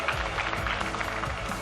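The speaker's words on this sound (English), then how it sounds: "Give one more round of applause for Aaron here." Audience applause at a Super Smash Bros. Ultimate tournament, the PAX West Panda Cup Almost Pro top 8, a continuous patter of clapping from a crowd throughout.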